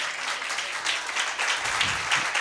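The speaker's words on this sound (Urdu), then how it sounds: "آئے زوردار تالیاں اپنے خداوند یسوع مسیح کے لیے بجائیں گے." A church congregation bursts into loud, sustained applause praising Jesus, a dense wash of clapping from many hands filling the room at steady volume throughout.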